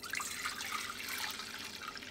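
Clam broth is poured off the sand and grit that settled in the bottom of a wok while cooking cioppino. A faint, steady liquid trickle runs for about two seconds with no talk.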